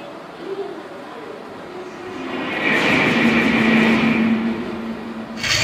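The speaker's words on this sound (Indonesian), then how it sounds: "Ini adalah kereta api cepat teman-teman" A toy high-speed train runs along its track, a steady rolling whir that builds to a louder, closer hum with a sustained tonal whine in the middle, then eases off before a sharp noise at the end.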